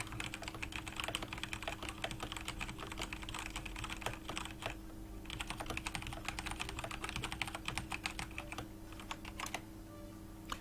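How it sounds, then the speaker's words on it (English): Steady, rapid typing on a computer keyboard during a livestream. The key clicks are quiet and continuous, over a low constant background hum, with no voices. "I don't know how loud my typing is actually."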